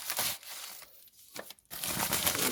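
Paper envelope handled and torn open to reach bullion bars inside, with close, steady crinkling and tearing that pauses briefly midway before resuming loudly.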